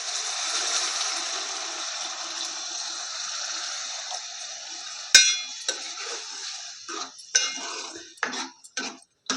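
Tamarind water is poured into a bottle gourd curry: a steady, splashy pour for several seconds, then a run of sharp, close metallic clinks and clatters from pots and utensils.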